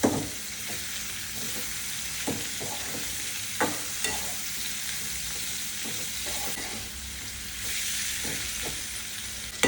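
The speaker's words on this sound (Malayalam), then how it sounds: "അപ്പോൾ ഇതൊന്ന് ചെറുതായിട്ട് ഫ്രൈ ആയി വരട്ടെ." Bitter gourd frying in hot oil, a steady broadband sizzle running throughout with occasional soft clicks of stirring, close and moderately loud, no voices.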